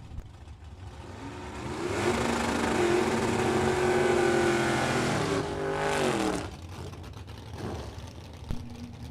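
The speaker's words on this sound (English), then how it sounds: "466 at 149 on the left-hand side for the supercharged dragster of Dennis DiValerio." A supercharged dragster at a drag strip roars past in a loud, sustained engine blast that swells for several seconds and then fades, with lighter crowd and ambient noise after.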